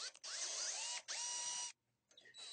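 A power tool taps threads into drilled holes in steel angle with a steady whirring mechanical whine. It runs in two long bursts, stops briefly, then starts again.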